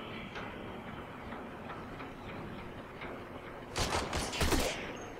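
Gunfire in Warframe: a quiet, steady game backdrop with faint ticks, then a loud cluster of rapid shots near the end.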